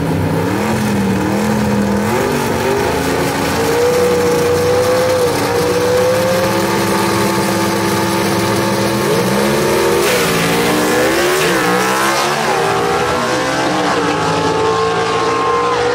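A 1958 Del Rey gasser drag car roars down the Knoxville Dragway, its engine note climbing through gear changes in a loud, sustained rising howl that dips and surges again near the end, with no talk over it.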